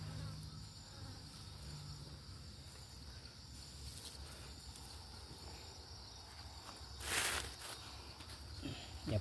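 Flies buzz faintly over a freshly buried pig outdoors, a thin steady drone in quiet surroundings with a brief louder rustle partway through.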